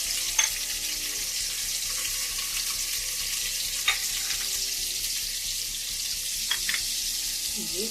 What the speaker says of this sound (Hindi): अब इसमें हम जीरा डाल लें, टमाटर,